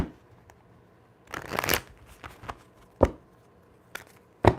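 Tarot cards being shuffled by hand, several distinct riffling bursts with brief pauses between, close and fairly crisp, with no talking over them.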